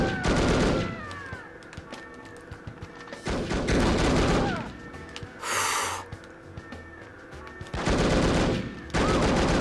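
Video game gunfire in The Operative: No One Lives Forever, loud bursts of rapid automatic shots in several volleys separated by quieter gaps.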